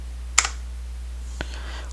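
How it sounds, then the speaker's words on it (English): Two crisp keypresses on a computer keyboard while a name is typed, sharp isolated clicks about a second apart over a steady low electrical hum. "I will go ahead and type in my name."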